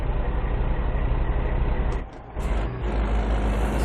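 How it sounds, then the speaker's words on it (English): Kenworth truck in a driving game hauling wood chips, a loud continuous low engine drone that drops briefly into a gap near the middle and then resumes, with no talking. "I love these trucks for the sound of the engine brake."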